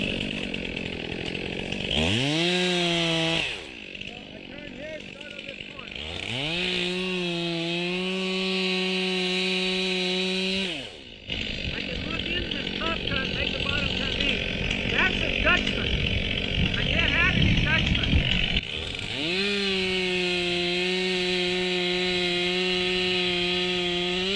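Close and loud, a chainsaw cuts out the bottom of a tree during felling, revving up into long steady cuts separated by brief idle drops, with wood-sawing rasp and someone talking at points.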